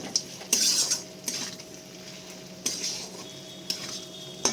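Goat fat and trimmings being stirred with spices in a pan give off sharp, intermittent metallic scrapes and clinks of a utensil against the pan over a faint low sizzle, with no talking.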